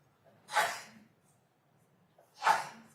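Two separate sneezes in a courtroom during a homicide trial, each a sharp, breathy burst about two seconds apart, fairly faint against a quiet room.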